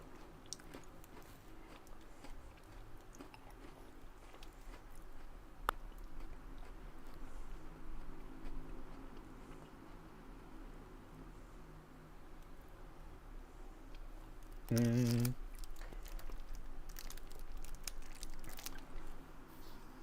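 Someone munches on food close to the mic, soft wet chewing and occasional crunches running steadily over a low hiss, with one brief louder bump partway through and no talk.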